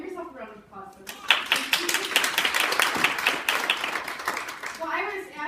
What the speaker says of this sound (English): So give yourself a round of applause for this.